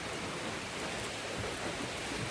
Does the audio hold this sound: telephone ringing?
no